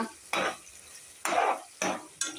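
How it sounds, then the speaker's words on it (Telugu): Onions, green chillies, curry leaves, bay leaf, cloves and cinnamon frying in oil for a meal-maker biryani, heard as short bursts of sizzling and stirring scrapes, four distinct strokes with quiet gaps between. "ఇవన్నీ బాగా ఫ్రై అవ్వనివ్వాలండి ఆయిల్లో"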